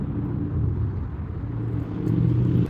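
A car driving on a city street in Kharkiv, its engine a steady low rumble heard from inside the cabin, continuous and fairly loud with no talking.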